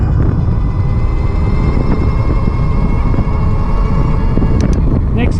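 Mokwheel Onyx mid-drive e-bike ridden at full throttle, with a steady loud broadband motor and wind rush running the whole way through and brief faint voices near the end.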